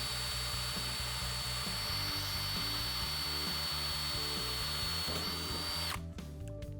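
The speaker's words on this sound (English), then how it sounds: "the drill bit will start cutting exactly where you want it to" A power drill bores a hole into a curved metal surface, its motor whining steadily and loud up close for about six seconds before the bit breaks through and the drill stops abruptly.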